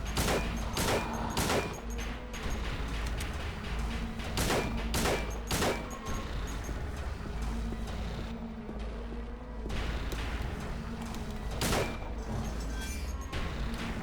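Rapid bursts of gunfire from a firearm shot into an enemy in the horror video game Silent Hill 2, loud repeated cracks in irregular clusters over a constant low game rumble.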